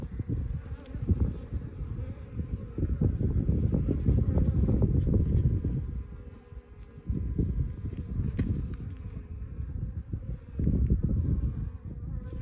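A dense, steady drone of honeybees swarms beneath a shed floor, loud and close, swelling and easing in waves and brushed at times by wind noise on the microphone.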